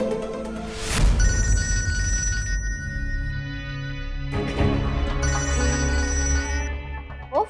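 A mobile phone rings with a bright electronic ringtone, repeating melodic tones that sound clearly and fairly loud across several seconds, with a burst of music swelling partway through.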